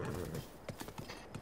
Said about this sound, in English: I'm gonna get one of my horses.